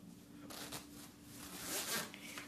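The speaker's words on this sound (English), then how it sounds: "Now you gotta squeeze this together and get the zipper." Zipper being drawn closed on a neoprene waist trainer sweat vest, a couple of quick rasping zips with brief handling rustle in between, close and fairly quiet.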